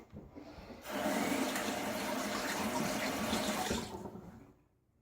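A tap runs steadily for about three seconds to rinse a shaving razor at a sink, a close, even rush of water that starts and stops abruptly.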